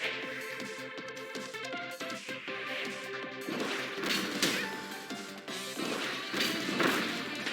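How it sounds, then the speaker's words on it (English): Bombs thrown to hit switches in the Kirby and the Forgotten Land video game, several crashing thuds and bursts over a busy game soundtrack, fairly loud and irregular. "you just gotta throw bombs and make them hit the switches here"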